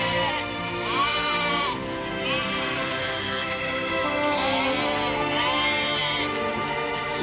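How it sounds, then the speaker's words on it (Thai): Sheep bleat repeatedly in an open pasture, several wavering cries overlapping at a steady moderate loudness, with no talk. "ลูกชูผิงไปเลี้ยงแกะที่ทุ่งต้องดูหน้าดูหลังด้วยนะลูก"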